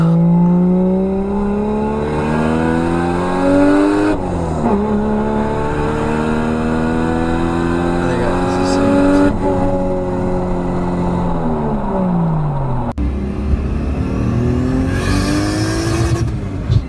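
A 2JZ-swapped Lexus engine revs loudly and close by in repeated rising and falling pulls, each sweep climbing in pitch before dropping sharply back, with brief breaks between revs.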